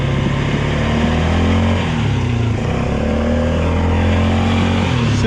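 A Honda four-wheeler ATV engine revs loud and close, its pitch climbing and dropping as it shifts gears, running on steadily through the whole stretch with no talking.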